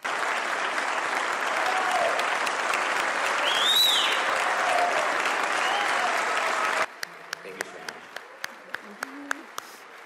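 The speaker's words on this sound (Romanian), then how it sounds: "Președintele ucrainean a fost întâmpinat cu aplauze minute în șir" The US Congress gives the Ukrainian president sustained applause as members stand. The dense clapping roars for several seconds, then drops off sharply to a few scattered, isolated claps.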